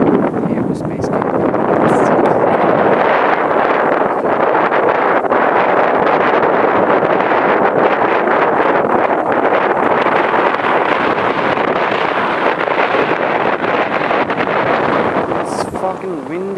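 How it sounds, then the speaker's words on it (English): Strong, constant wind buffets the microphone on an exposed hilltop peak during a hike in Hong Kong, a loud, unbroken roar with gusty rumbling that lasts the whole stretch without easing. "It's fucking windy."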